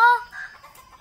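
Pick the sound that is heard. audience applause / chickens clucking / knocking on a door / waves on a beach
chickens clucking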